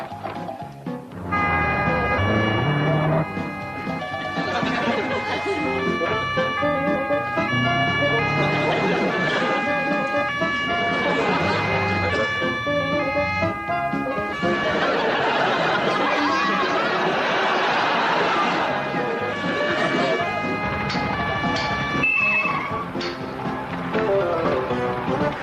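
Ambulance siren wailing on an urgent run to a hospital in Britain, a loud continuous two-tone tone sweeping up and down for the whole stretch, with faint chatter and traffic beneath.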